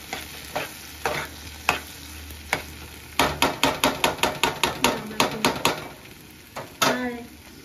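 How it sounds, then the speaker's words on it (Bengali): Eggplant frying in fish oil in a pan, with a run of sharp, rhythmic spatula taps and scrapes against the metal, sparse at first then a quick close series, over a faint sizzle. "বেগুনটা দেখো একদম ভাজা মোটামুটি হয়ে যায়"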